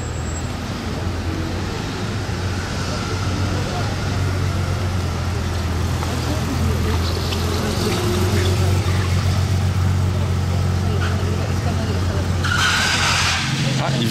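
A RUF SCR sports car runs with its exhaust valves open, giving a deep, steady rumble heard from nearby along with outdoor background noise and a brief higher burst near the end.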